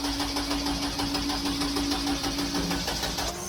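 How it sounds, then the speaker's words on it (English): A car's fuel pump runs during a no-start check, a steady close electric whirr and buzz with a faint rhythmic pulse that holds unbroken for the whole stretch. "Fuel pump."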